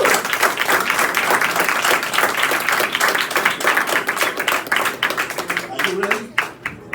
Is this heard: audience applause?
yes